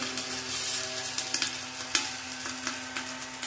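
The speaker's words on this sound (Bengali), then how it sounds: "এবার আমি এর মধ্যে রাইসগুলো দিয়ে দিচ্ছি" Steady, loud sizzling as rice goes into a hot frying pan with cashews for fried rice, with intermittent crackles and scraping stir sounds over a constant hiss.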